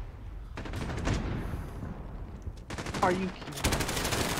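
Gunfire in Call of Duty: Modern Warfare during a Gun Game match: rapid automatic bursts come in several clusters at moderate loudness, while a player speaks briefly over the shooting.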